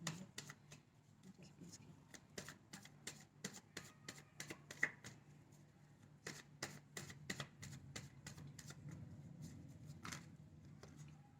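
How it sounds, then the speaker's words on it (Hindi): Tarot cards being shuffled by hand, a dense run of soft riffling clicks and slaps in irregular bursts, close and fairly quiet over a low steady background hum. "जब तक मैं कार्ड शफल कर रही हूँ"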